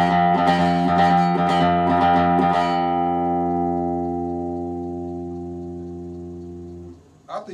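Electric guitar phrase picked close to the bridge while learning the intro theme of Taiyō ni Hoero!, a run of quick bright notes for about three seconds, then a single sustained chord ringing out and slowly fading, with a small pick noise at the end.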